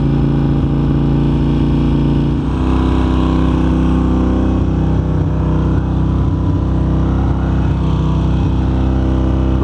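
A 1993 Ducati 750 Super Sport motorcycle starts up and settles into a steady, loud, close idle, its engine burbling continuously throughout with no talking.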